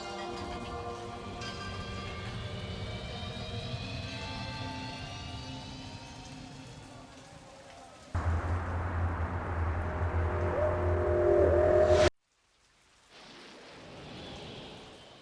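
Rain in the video game Blade Runner: a steady hiss of rainfall beneath droning ambient tones, swelling into a louder, rumbling downpour before cutting off abruptly, then returning faintly.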